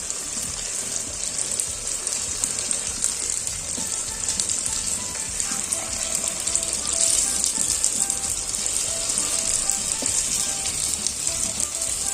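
Sugar-free unniyappam batter sizzles in hot oil in an appam pan, a steady, close crackling fry that holds for the whole stretch with no talking.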